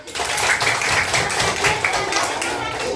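A class of children claps hands together in a classroom, a lively burst of many small hands at close range with uneven, overlapping rhythm lasting a few seconds.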